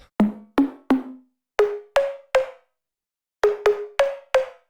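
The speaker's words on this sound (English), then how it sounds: "Now I'm gonna play a few plugs for you. This one is called Alert." Future house synth pluck preset called Alert: short bright plucked notes in a bouncy pattern, two groups of three and four with a gap between, each decaying quickly, loud and alone.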